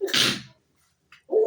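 A single sharp human sneeze bursts out loudly and close during a motivational talk, followed by a brief pause and a short exclaimed voice.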